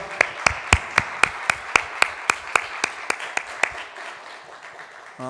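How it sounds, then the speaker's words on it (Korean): Congregation applause at a Sunday church worship service, starting as a run of about fifteen sharp, evenly spaced claps that rise from a dense general patter, then fade into softer scattered clapping before a sustained tone enters at the end. "하나님께 영광의 박수 올려드리겠습니다"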